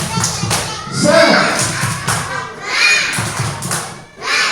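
A classroom group of pupils in an Islamic religious education lesson performs rhythmic spirit clapping, bursts of claps and thumps in patterned beats mixed with children's voices and chatter.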